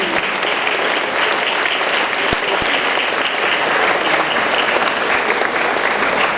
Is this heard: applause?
yes